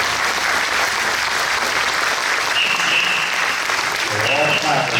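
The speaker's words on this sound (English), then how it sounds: "And here's the crowd clapping." A crowd at a museum event claps steadily in a dense, continuous wash of applause. Faint voices rise toward the end.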